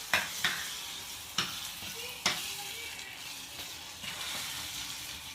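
Chili paste fries in oil in a pan and is stirred, with a soft, constant sizzle broken by sharp scraping strokes of the spoon at irregular intervals, close but fairly quiet.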